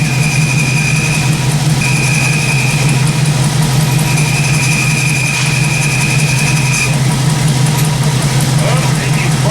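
Whining throwout bearing on the clutch of an LS-swapped Jeep Scrambler off-roader after a water crossing, a steady high tone cycling on and off over a constant low engine idle, with people talking nearby.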